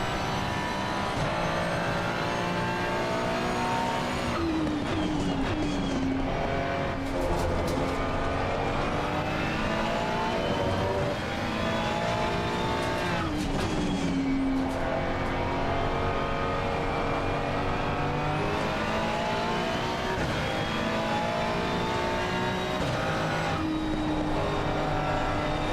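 Race car lapping Watkins Glen in a racing video game, a loud, continuous engine note climbing through the revs with repeated upshifts and downshifts, steady and close throughout.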